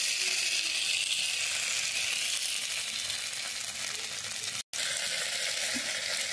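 Spice masala being stirred and sautéed in a pan, a steady close sizzle with fine crackle running throughout, broken only by a brief silent gap near the end.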